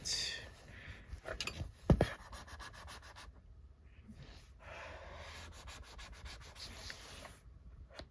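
Cloth rubbing and wiping across a MacBook's surface to clear dust and debris, a steady soft scrubbing with a brief sharper knock near the start, close and fairly quiet with no talking.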